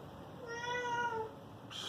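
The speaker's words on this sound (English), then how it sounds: "stupid cat" A cat gives a single clear, drawn-out meow in a home workshop. It is faint and close, and a brief noise follows it.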